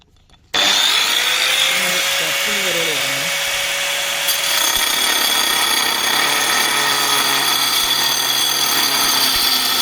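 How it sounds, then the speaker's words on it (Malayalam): A power tool cuts through clay roof tiles at a home, with a loud, continuous, harsh grinding whine that starts abruptly and fills the whole stretch. A brief voice sits under it near the start. "അത് ഈ ഓടൊക്കെ നമുക്ക് കട്ട് ചെയ്യാനുള്ളതാണ്"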